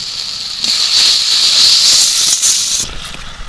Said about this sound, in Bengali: এবার মশলাটা কষিয়ে নেবো এর মধ্যে দিয়ে দেবো একটু লবণ